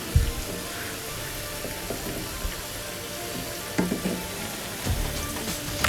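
Potato finger chips sizzle and crackle steadily as they fry in hot oil, with occasional louder bursts and scraping as they are stirred, close and continuous.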